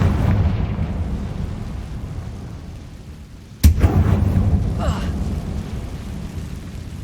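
A Confringo explosive spell in the Hogwarts Legacy video game goes off as one sharp, loud blast at mid-clip, followed by a rumbling fiery tail over steady game ambience.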